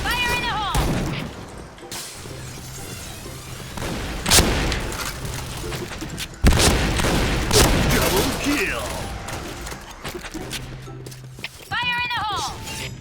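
Gunfire rings out in the Point Blank deathmatch shooter, with scattered loud shots, impacts and booms among other game effects, heard beneath a player talking throughout.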